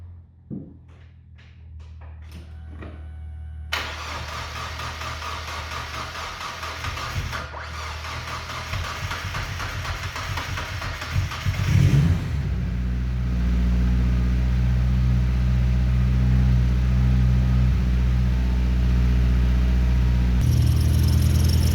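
Turbocharged Mazda MX5 NB cranks over after some clicks and clatter, then catches and settles into a loud, steady idle with a deep, even drone close by.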